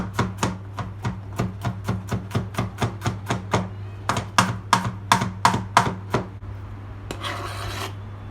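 Garlic cloves chopped with a knife on a board: a steady run of about twenty crisp, evenly spaced chops, close and clear, ending in a brief scraping rasp.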